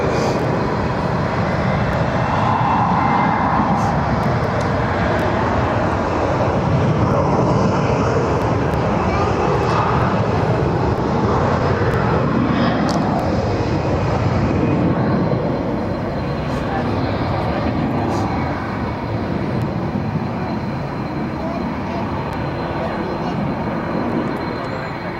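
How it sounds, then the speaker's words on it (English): An Air Europa Boeing 737 jet departs Barcelona airport, its engines a loud steady roar that holds for the whole stretch with little change, heard from a nearby spotting point. "This one will be a 737 going to Palma de Mallorca."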